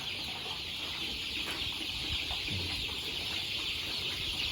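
Three-blood crossbreed chickens on a Thai farm cluck in short, scattered calls over a constant hissing background, with no one talking.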